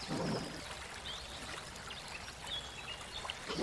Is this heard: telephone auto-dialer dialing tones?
no